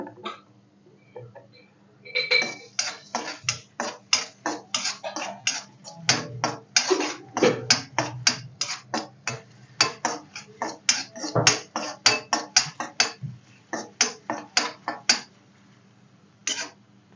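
Chopped garlic hits refined oil in a kadhai, giving a dense run of sharp, irregular crackles and spitting pops that is close and fairly loud and continues for the whole stretch with no talking.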